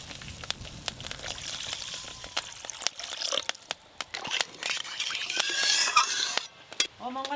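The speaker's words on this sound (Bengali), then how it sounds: "এবার জল দিয়ে দেবো।" Potato curry being stirred in a pan after water is poured in, with a steady clatter of a spoon against the pan and some sizzling close up, sharp scraping knocks recurring throughout.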